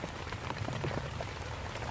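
Steady rain pours onto a Dutch army canvas tent, a dense, close patter of drops drumming on the fabric with no break throughout.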